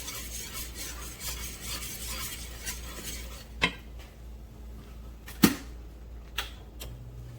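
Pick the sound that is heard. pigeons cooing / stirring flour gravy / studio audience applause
stirring flour gravy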